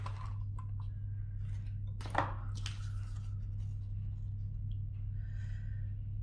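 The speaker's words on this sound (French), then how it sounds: "On va découper sans se couper les doigts." Scissors cut through paper for a simple paper-clip embellishment craft, giving faint crisp snips with one sharper cut near the middle, set over a steady low hum.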